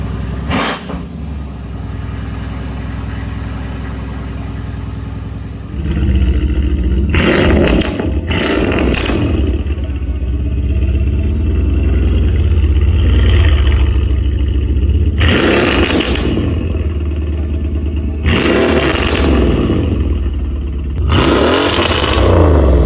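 A Mercedes-AMG C63s with its exhaust valves open idles loudly, then breaks into repeated hard revs that flare and fall back over a steady rumble, with no talk.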